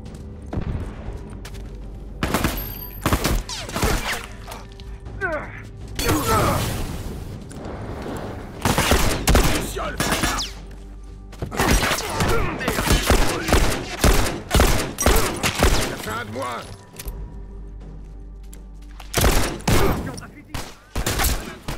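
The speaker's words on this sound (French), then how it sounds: "Attention, fusil !" Dense rifle fire in the multiplayer video game The Last of Us Factions, loud bursts and rapid volleys of shots with booms, coming near and far over about twenty seconds, with brief pauses between exchanges.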